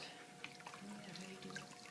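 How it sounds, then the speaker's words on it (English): Water wrung from pottery sponges during throwing on a wheel makes faint dribbling and light dripping splashes, with a couple of small sharper drops, close by and otherwise quiet. "So then I have to get the water out"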